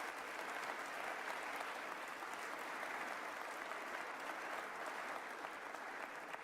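Audience applause for the justices at a state address, a steady, dense wash of clapping from a large crowd that sounds somewhat distant and holds evenly throughout.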